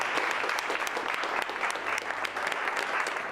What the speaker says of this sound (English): So I think you guys should give up a little round of applause for yourselves.